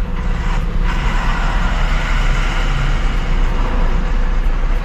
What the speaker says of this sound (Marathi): ट्रॅफिक काय आपला पिच्छा सोडत नाही राव